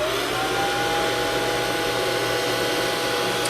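A hair dryer blows on freshly applied paint to dry it, a loud, continuous, even airy roar held close to the microphone throughout.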